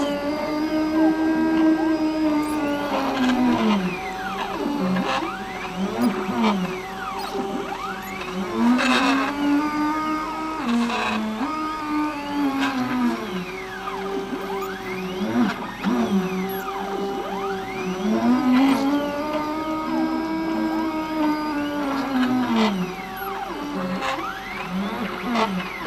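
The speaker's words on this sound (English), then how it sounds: "It's really fun to watch a 3D printer at work in person, especially when you built it from the ground up." A home-built Cartesian 3D printer lays down infill, its stepper motors singing in steady, repeating rising and falling whines with a continuous mechanical hum underneath, close and fairly loud with no talking.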